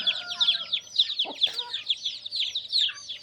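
Native country chickens on a poultry farm cluck and chatter continuously, close and fairly loud, with overlapping calls and no speech.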